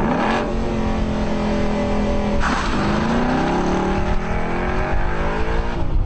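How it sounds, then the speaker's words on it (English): A Ford EcoBoost car engine holds a steady high rev at a set launch RPM, then surges and climbs again, loud and close with a harsh droning tone and no talking. "Once programmed, the engine idles at the set level, and you just drop it in gear"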